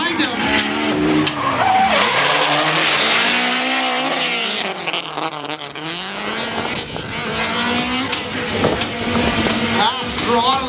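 Loud tires squeal and skid in long wavering screeches over a roaring, revving race car engine at a drift competition, with the pitch sweeping up and down as the car drifts.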